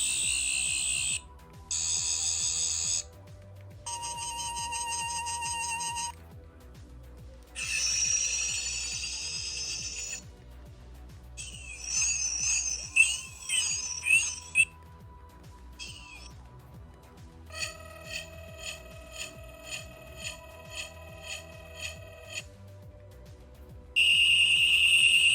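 A Doctor Who sonic screwdriver toy plays a run of electronic sound effects, each a separate shrill burst. There are warbling tones, pulsing buzzes and trilling whines with short silent gaps between them, all close and loud.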